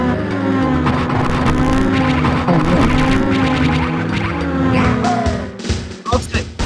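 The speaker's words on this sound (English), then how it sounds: "Also, it finally makes space car noises." Continuous electronic engine whine from the video game WarioWare, Inc.: Mega Microgame$, with steady layered tones, shifting pitch and sweeping swoops near the end, loud throughout.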